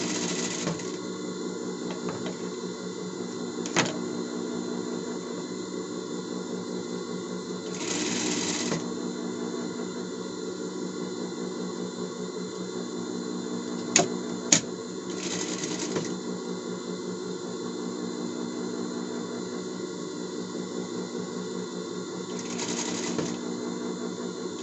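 A sewing machine stitching a shirt collar on a costume gives a steady, close mechanical whir with rapid regular needle ticking, broken by several short pauses and a few sharp clicks, with faint talk at moments.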